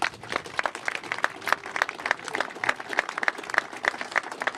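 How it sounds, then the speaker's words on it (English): Factory workers at an outdoor campaign event in Loughborough applauding, a lively scatter of sharp claps with some crowd murmur, fairly distant and steady throughout. "Give yourselves a big round of applause."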